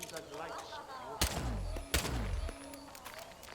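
Two loud gunshots ring out in the stealth game Hitman 2 about a second apart, each with a deep booming tail, over faint background game sound.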